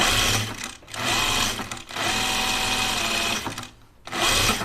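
A sewing machine stitches bias binding onto an apron at a quarter-inch seam, running in three loud, steady whirring stretches separated by brief stops.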